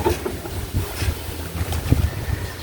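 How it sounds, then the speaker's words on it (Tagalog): Strong wind gusting outdoors during a family outing, a rough rumbling buffet against the microphone with rising and falling bursts, loud and close, with no speech. "ang lakas ng hangin"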